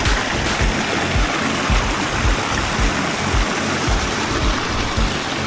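Water rushes and splashes continuously in a flowing stream, a dense, steady babble close by.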